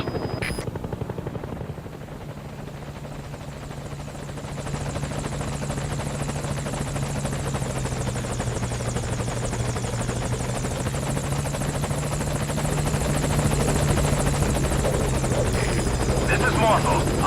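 The Morpho helicopter in Metal Gear Solid V arrives with a steady, loud rotor thrum and whine that builds slightly, while radio voices talk over it.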